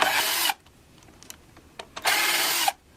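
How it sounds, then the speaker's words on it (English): A power driver removes small screws from the tuning machines of an inexpensive Glarry guitar, two short loud whirring bursts separated by a quiet pause with faint handling clicks. "Now let's take the tuning machines off. Gotta take these little screws here out."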